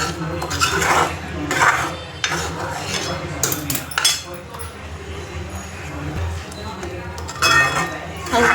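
Chickpeas tipped into masala frying in oil in a pan and stirred, with a steady metallic scraping and clinking of a spoon against the pan. A voice talks over it throughout.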